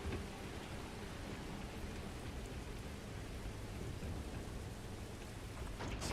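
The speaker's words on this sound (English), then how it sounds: "You really need to upgrade the quality of their rain in this game as well" Steady hiss of rain in the Starfield video game, a flat continuous broadband wash without drops or thunder standing out, no voices.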